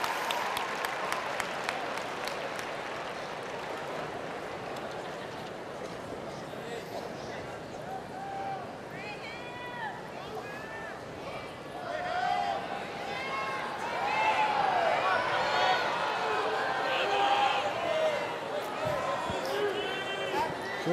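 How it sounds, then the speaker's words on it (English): Crowd at the 2019 Westminster Kennel Club Dog Show Toy Group judging applauding steadily and calling out dogs' names, a dense arena roar with individual shouts rising and swelling louder toward the end. "Crowd is really getting into this. Yeah. They're calling out names."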